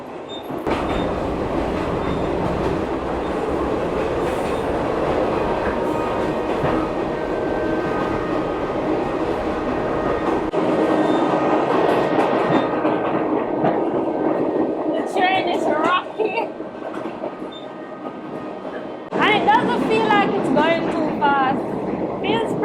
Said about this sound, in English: It's very loud because it is an older train, so it's loud.